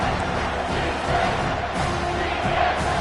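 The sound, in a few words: stadium crowd cheering on third down at football game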